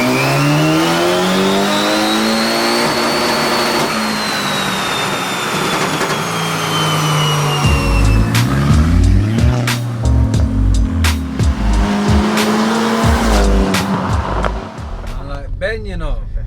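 A 400 bhp Volkswagen Caddy van engine revs hard on a dyno, pitch climbing and holding, then drops into repeated sharp throttle blips and rising surges, with voices faintly underneath.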